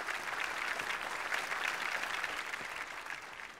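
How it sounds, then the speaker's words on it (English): Audience applause for four performers at a racial harmony celebration event in Singapore, a steady wash of many hands clapping that tapers off slightly at the end. "A big round of applause for Taufik, Suthasini, Daryl Ann, and Elvin."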